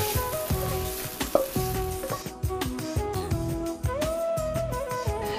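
Fried leek and garlic sizzle in a cooking pot, a close hissing fry with scraping stirs and clinks of a utensil against the pot, spread throughout.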